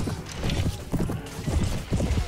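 Horses gallop in Mount and Blade with the Portugal 1257AD mod, hooves clopping in quick uneven bursts, fairly close and clear, with no talk over them.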